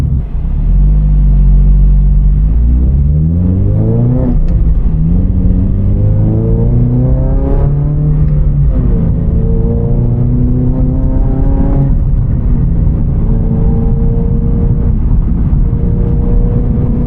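A Toyota GR86 fitted with IAG coilovers drives a curvy road, its engine loud and close from inside, revving up through the gears in rising sweeps with brief dips at each shift.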